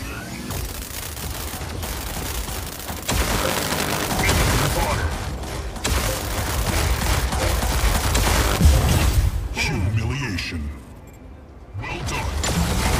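Dense, continuous weapon fire and explosions from mech combat in the mobile game Mech Arena, loud and sustained with brief dips, while game announcer voice lines play over it.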